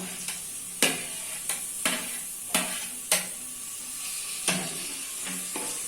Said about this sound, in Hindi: टमाटर ऐड करने के बाद उसको अच्छे से चलाना है।